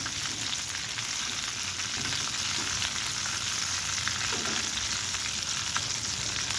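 Chicken pieces for a pineapple-style chicken fry deep frying in hot oil, giving a steady, dense, close crackling sizzle that holds evenly throughout with no talking.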